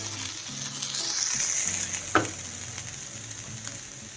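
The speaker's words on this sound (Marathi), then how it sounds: "भाज्याचं मिश्रण आता थोडंसं दोन मिनिट ह्याला असंच परतून घ्यायचं आहे" Mixed vegetables sauté in a pan while rava appe is being made: a steady bright sizzle with one sharp scrape of a spatula midway, no talking.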